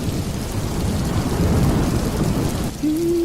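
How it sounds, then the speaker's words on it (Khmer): A sudden storm of rain and wind near a beach, with dense steady rain noise and rumbling gusts throughout, and a low tonal hum rising in near the end. "ស្រាប់តែមេឃប្រែជាភ្លៀងខ្យល់បក់រសាត់"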